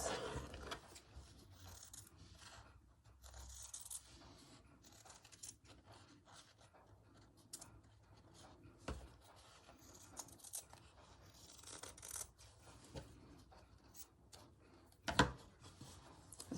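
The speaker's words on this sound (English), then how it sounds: "Scissors." Scissors snip through fabric for a stitched story box, giving quiet, scattered cuts and rustles with a sharper snap near the end, all faint and close.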